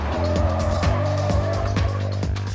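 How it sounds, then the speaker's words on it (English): Car tyres squeal and skid as a vehicle spins out after being rammed in a police pursuit, a loud, continuous screech with engine roar and repeated scraping pulses. "This causes the rear wheels of the suspect to lose traction, resulting in a spin-out."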